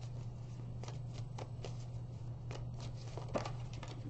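Tarot cards being shuffled and drawn by hand, a close, soft run of riffling flicks and slides repeating over a faint steady hum, with no talk.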